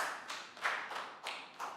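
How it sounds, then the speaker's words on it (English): A few people clap briefly in a small Year 3 primary school classroom, soft uneven claps in short bursts, fairly quiet and close. "Big round of applause for Pat."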